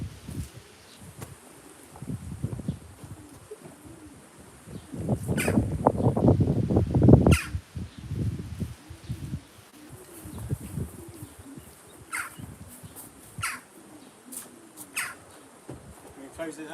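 Young racing pigeons leave a backyard loft with a burst of wing flapping and fluttering, loudest in the middle and then tailing off. Soft cooing and faint insect buzz sit around it, with occasional sharp clicks.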